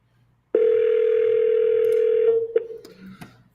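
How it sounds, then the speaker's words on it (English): An outgoing phone call during a live sales cold call: a single steady ring tone sounds for about two seconds, then cuts off into faint clicks and handset noise. "the beautiful ringtone."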